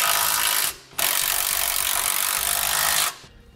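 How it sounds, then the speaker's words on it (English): A ratchet with a 15 mm socket tightens bushing bracket bolts on a Roadmaster front anti-sway bar fitted to a 2006 Winnebago, giving two sustained bursts of dense, close ratcheting with a short pause between them. "Our bushing brackets will tighten with a 15 millimeter socket."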